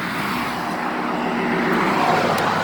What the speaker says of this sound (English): I'll be giving you a shot of the traffic since everybody wants to get in the camera.